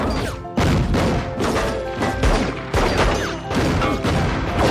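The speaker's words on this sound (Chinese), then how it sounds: "这时司机赶紧发动汽车撞上了波特，随后便推着他重重地撞上了后边的车辆。" A car slams into a man and pins him against another vehicle amid an exchange of gunfire, heard as a dense run of loud crashes, thuds and shots, with several sharp impacts spaced across the scene and no pauses between them.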